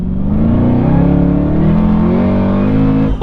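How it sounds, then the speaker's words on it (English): An 800-horsepower HSV GTSR wagon accelerates at about 3,000 RPM in second gear on light throttle, giving a loud, deep engine drone that rises steadily in pitch, heard close up from inside the car with no talk. "If I just lightly dab on the throttle, that's the power that's delivered"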